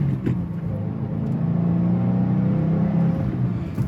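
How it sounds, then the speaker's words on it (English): A 2024 Subaru WRX four-cylinder engine with a 6-speed manual hums steadily and close at a constant pitch, a continuous low drone with no talking over it. "for a 4-cylinder, it sounds great for a 4-cylinder."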